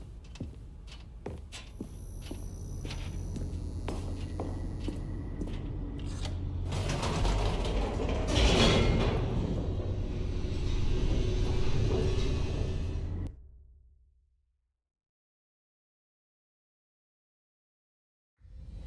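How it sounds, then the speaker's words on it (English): An elevator in The Stanley Parable descends with a continuous mechanical rumble, creaks and gear-like rattling that swell louder midway, then cut off abruptly into silence before a faint sound returns at the very end. "The elevator raced downward, plummeting towards an unknown fate."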